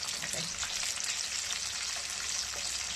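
Tomatoes frying in hot oil in a pan make a steady, close crackling sizzle with light stirring, heard alone for a few seconds.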